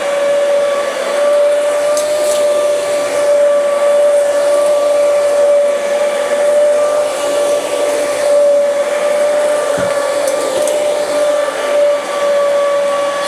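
A loud, continuous motorized whine with a steady high tone holds for the whole stretch, no voices, from a Dyson Ball upright vacuum cleaner running nearby.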